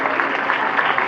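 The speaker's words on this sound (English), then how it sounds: "I need your applause for that." Audience applause at the Queens College commencement, a dense, steady patter of many hands clapping that fills the whole short stretch evenly.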